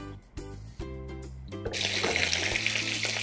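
Breadcrumb-coated cheesy chicken frying in oil: a few knocks and clunks as pieces go into the pan, then a loud, steady hiss of sizzling that holds to the end.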